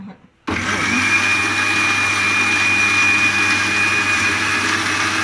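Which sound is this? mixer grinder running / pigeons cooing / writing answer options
mixer grinder running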